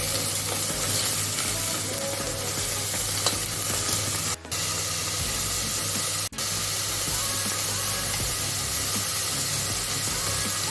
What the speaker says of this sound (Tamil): நான் இப்போ மட்டன் கீமா சேர்க்க போகிறேன். அதையும் நல்லா இதில் வதக்கிக்கலாம்.